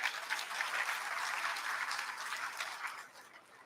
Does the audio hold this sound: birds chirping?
no